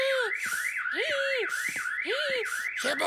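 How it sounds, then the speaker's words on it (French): A school fire alarm in a French cartoon wails in repeated rising and falling electronic sweeps, loud and continuous, with a short burst of noise at the end. "cette fois-ci, c'est l'alarme incendie"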